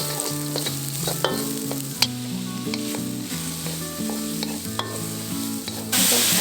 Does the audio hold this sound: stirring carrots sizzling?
yes